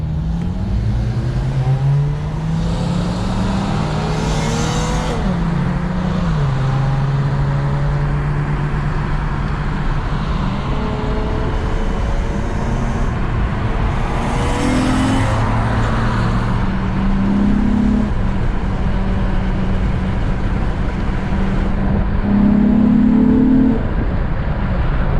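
A raspy TL SH-AWD car engine fitted with new PCDs revs repeatedly, rising and falling in pitch under continuous loud road and exhaust roar, as if driven hard or passing close by, with no talking.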